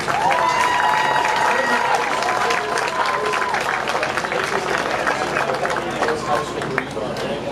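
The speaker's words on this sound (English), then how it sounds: "One more round of applause" Crowd at a 2023 Springfield High School football homecoming applauding and cheering the homecoming court, continuous broad clapping and crowd noise over a busy stadium background, with tonal whistle-like sounds early on.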